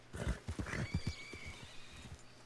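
A horse in Red Dead Redemption 2 whinnies in a rising, wavering call over a cluster of close hoof thuds and snorts, the neigh trailing off as the clopping fades.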